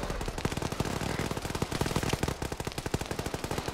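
Rapid automatic gunfire from a video game called FNF, a continuous stream of close, loud shots in fast rhythm over the full stretch, with no talk.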